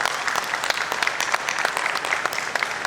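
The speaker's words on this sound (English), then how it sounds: "a huge round of applause for architect Khuzaima" Round of applause for an architect at a stage event, dense and steady clapping from a seated audience, fairly close and sustained throughout.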